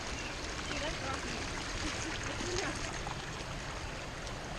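Creek water rushing over rocks beside a flooded, rocky hiking trail on Kearsarge, a steady broadband wash that stays close and constant throughout.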